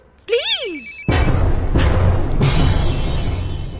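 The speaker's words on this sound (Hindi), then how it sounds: "मुक्ति कपूर का फोन।" A phone rings in a dramatic Hindi action-film scene: a short, bright electronic ring that swoops up and down, quickly swamped by loud, dense background noise.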